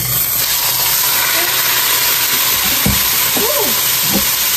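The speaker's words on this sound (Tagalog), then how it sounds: "unahin po natin lutuin ng ating karne. Unahin, parang igisa natin siya una" Meat sautéing in a hot pan during Filipino home cooking gives a steady, continuous sizzling hiss that stays close and fairly loud throughout, with a few faint clinks beneath it.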